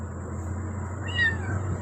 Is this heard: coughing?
no